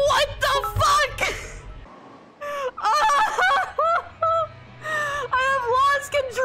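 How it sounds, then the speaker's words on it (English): Clucking from a chicken in the video game Yakuza 0 comes in repeated squawky bursts with short gaps between them, close and fairly loud. "This is a fucking chicken."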